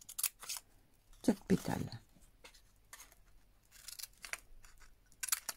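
Scissors snip through paper or fabric petals for a shabby-style vintage rose, a few short crisp cuts up close, mostly in one brief burst, with someone talking in French before and after.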